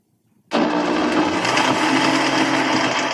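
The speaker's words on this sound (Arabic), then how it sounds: "هلا حشغل الخلاط حتى" A blender starts abruptly and grinds soaked apricot paste (qamar al-din) loudly and steadily, a dense whirring roar that continues without pause.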